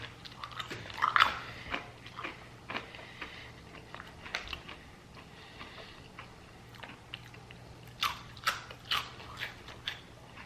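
Crunchy freeze-dried astronaut food, cinnamon apple, being chewed close up in a series of quiet, irregular crisp bites and crunches.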